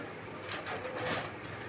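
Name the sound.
fancy pigeons cooing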